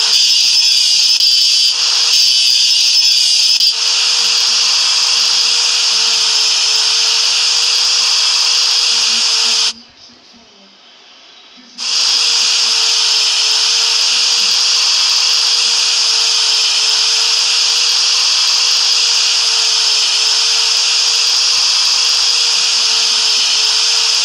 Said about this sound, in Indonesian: Ayo singkirkan karat mesinnya.